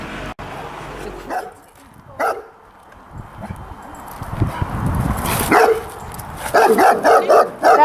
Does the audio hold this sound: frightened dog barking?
yes